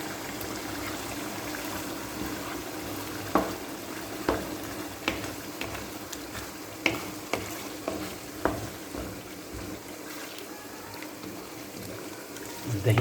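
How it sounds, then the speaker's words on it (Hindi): Chicken liver fries over low heat in whisked yogurt for a kaleji kadai, a steady soft sizzle with intermittent stirring clinks and scrapes, close up and without talk. "दही डाल के हम इसको तकरीबन 10 से 15 मिनट के लिए हल्की आंच पे अच्छी तरह भूनेंगे"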